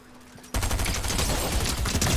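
Gunfire erupts in a video game shootout, a sudden dense burst of loud rapid shots that continues without pause after a brief quieter moment.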